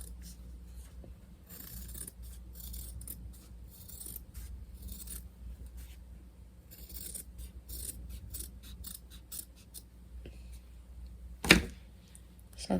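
Scissors snipping loosely around a drawn circle on material near felt for a geode craft, a quick series of crisp close cuts in bursts, ending with a sharper single knock.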